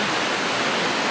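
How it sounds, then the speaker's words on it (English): A glacier river just outside McCarthy, Alaska, in the Wrangell-St. Elias area rushes past with a steady, loud, close roar and no breaks or voices. "how many times can you say that you're parked next to a glacier river?"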